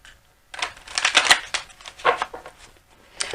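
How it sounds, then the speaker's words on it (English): A Crystal Visions Clarification tarot card deck being shuffled by hand, with close, crisp riffling and flicking bursts in quick irregular runs and brief pauses between them. "but I like to shuffle for you."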